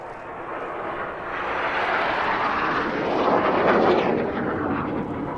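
Jet aircraft flying in line astern formation at an air show, a broad roaring rush that swells and peaks in the middle before easing slightly, continuous and fairly loud with no talking.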